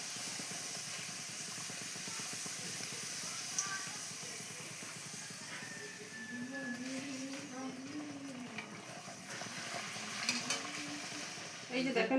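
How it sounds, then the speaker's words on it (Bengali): Luchi bread frying in hot oil gives a steady, close hiss and crackle that runs without a break, with faint voice-like tones and a few light clicks in the background. "দুই সাইড থেকে সুন্দর করে ভেজে নেব, লাল করে নেব"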